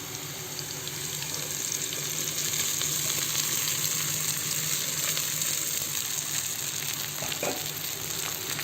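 Leftover idli pieces sizzling in a hot pan for idli upma, a steady loud frying hiss with faint scrapes and a few clicks near the end, no voices.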